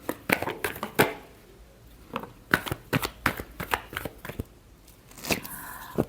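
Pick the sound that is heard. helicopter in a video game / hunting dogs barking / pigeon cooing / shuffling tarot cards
shuffling tarot cards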